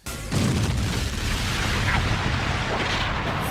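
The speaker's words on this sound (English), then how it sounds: "He fires missiles as well to totally eradicate Sonic." Missiles explode in the Sonic OVA cartoon: a sudden loud boom bursts in, then rolls on as a dense, sustained rumble of blasts and debris.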